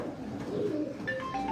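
Pigeons flown in a pigeon-racing tournament coo softly, with a few short calls and faint chirps over low background murmur.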